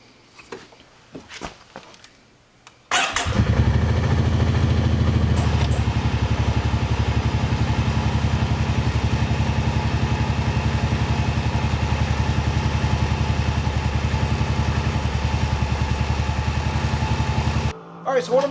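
An ATV winch reels AmSteel synthetic rope onto its spool, a loud steady motor whine with rattling clatter that runs continuously for about fifteen seconds after a few faint knocks, then cuts off near the end.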